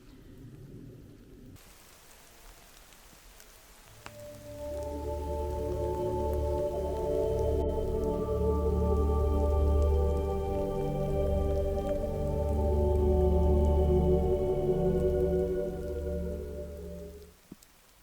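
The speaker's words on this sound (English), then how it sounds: "it's raining quite heavily at the minute" Heavy rain pours down onto woodland trees on Doon Hill near Aberfoyle, a broad steady hiss that swells after a quiet start, with a low rumbling undertone and no talking.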